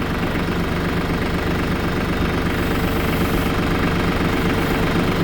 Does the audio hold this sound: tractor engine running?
yes